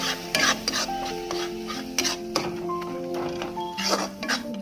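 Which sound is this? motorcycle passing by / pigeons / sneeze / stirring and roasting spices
stirring and roasting spices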